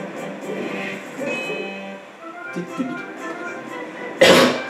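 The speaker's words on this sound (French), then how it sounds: "Excusez-moi, j'ai encore un peu la toux" A single short, sharp cough bursts out near the end, close and loud, after a stretch of quiet background sound from Zelda: Twilight Princess gameplay.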